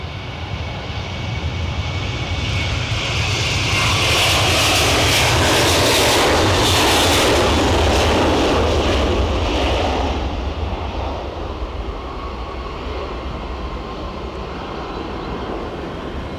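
An airliner departs Edinburgh airport, its jet roar building from a steady rumble to a loud peak through the middle and then easing away into a lower, fading drone.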